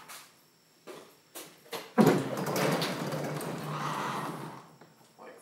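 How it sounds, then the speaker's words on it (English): An auto body shop door is unlocked and opened, with a few sharp clicks from the lock followed by a loud rolling, scraping slide that lasts a couple of seconds, close by, with a final faint knock. "I'm going to try opening the door slightly"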